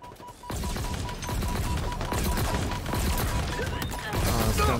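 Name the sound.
gunfire from a gun in the video game Halo Infinite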